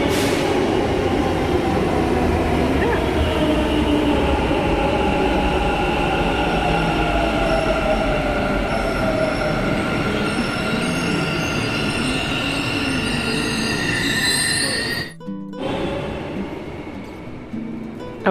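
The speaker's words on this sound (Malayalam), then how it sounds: "Our train is almost here." A Bangalore Namma Metro train pulls into the station, its loud, steady rumble overlaid with high, drawn-out wheel squeals that build and shift as it slows, then drop away sharply near the end.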